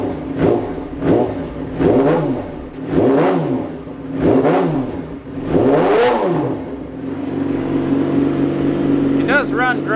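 A 2008 Yamaha R6 motorcycle engine warming up after a coolant repair, loud and close, with repeated rhythmic revving surges every second or so, then settling into a steadier idle.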